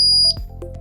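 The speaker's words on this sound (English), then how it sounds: "So the reader has beeped to indicate that it has successfully connected to our system." A Bluetooth proximity reader at a front door gives a short, bright electronic beep as it connects, then a faint clunk and a soft second tone follow.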